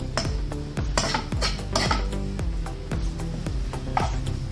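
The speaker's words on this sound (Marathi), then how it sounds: "आता मी कोथिंबीर घालून घेते, हलवून घेते चांगलं" A spoon scrapes and knocks rhythmically against a metal pan as cooked paneer filling is stirred with fresh coriander, loud repeated clanks and scrapes with a faint sizzle beneath, no talking.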